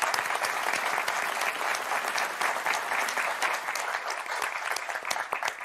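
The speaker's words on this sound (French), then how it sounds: "Je voudrais qu'on les applaudisse très, très fort." A large French game-show studio audience applauds steadily throughout, a dense continuous patter of clapping that holds at the same level from start to finish.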